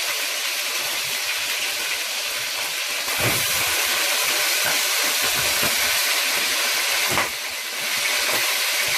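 Chicken frying in oil until browned gives a continuous broadband sizzle and hiss that grows louder partway through and stays steady without any talk.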